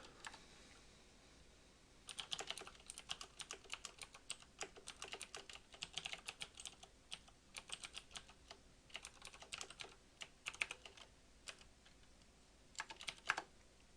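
Quiet, close typing on a computer keyboard while code is written. Bursts of rapid key clicks alternate with short pauses.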